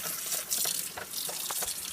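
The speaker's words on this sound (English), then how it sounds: "so I'm going to fill this with water" Tap water runs into a container at a kitchen sink while sushi ingredients thaw, a brief splashing gush with uneven bursts throughout.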